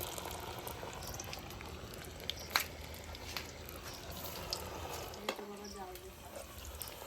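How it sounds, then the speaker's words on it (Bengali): Chops deep-frying in hot oil until dark and crisp, a steady low bubbling and crackle running throughout at moderate level, with a few brief clinks and a voice briefly heard. "ভালো কড়া ভাজা হচ্ছে"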